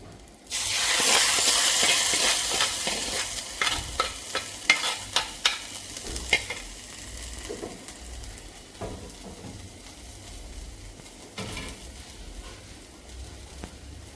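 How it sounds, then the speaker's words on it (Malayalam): Kerala-style mackerel fish curry getting a tempering of shallots and curry leaves fried in hot oil, which hits the pot with a loud sizzling burst, followed by stirring clatters and a fading crackle. "ഇത് ചെറിയുള്ളിയും കറിവേപ്പിലും കൂടിയിട്ട് ഉള്ളൊരു വറവാണ്. അത് ഇതിലേക്ക് ഇട്ടുകൊടുക്കാം."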